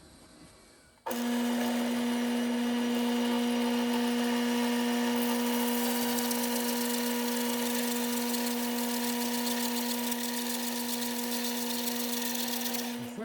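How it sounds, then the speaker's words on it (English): A drill press spins up with a sudden start and holds a loud, steady motor whine and hum as a 1 3/8 Forstner bit bores into plastic over a plywood backer, the tone constant for over ten seconds. "So we're going to do it on the drill press. 1 3/8 Forstner bit."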